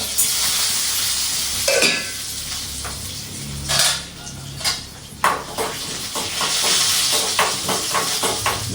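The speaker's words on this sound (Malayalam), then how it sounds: "ഇതാ ഉണക്കമുളക് ആദ്യം ഇതാ രണ്ട് മണി ഉലുവ ഇടുന്നുണ്ട് ചീമ്പട്ടിയിൽ" Dried red chillies and fenugreek seeds fry in a pan with a steady hiss and sizzle, broken by several sharp stirring scrapes and clinks.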